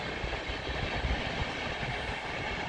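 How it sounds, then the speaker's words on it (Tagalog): A fast long-distance train rushes past, giving a steady, fairly quiet rumble and rail clatter with no voices. "Ayan ang long distance na tren. Mabilis yan."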